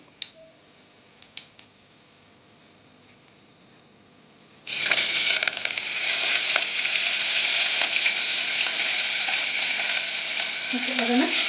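Onion, curry leaves and tomato drop into hot oil in a pan for palak sambar, bursting into a loud continuous sizzle after a few faint ticks and clicks, then frying steadily close up.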